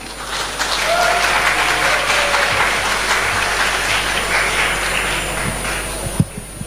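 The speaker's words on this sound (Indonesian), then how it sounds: "Berikan tepuk tangan." Steady audience applause fills the hall at a speaker's introduction ahead of a talk, a dense continuous clatter of clapping held at even loudness for about six seconds before a brief thump near the end.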